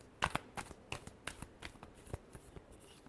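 A deck of tarot cards is riffled and shuffled in quick, crisp bursts of flicking and snapping, close and alone.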